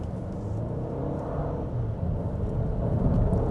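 A Cadillac XT4 turbo engine under hard acceleration, heard from inside the cabin as a low, steady rumble that swells gradually over a few seconds.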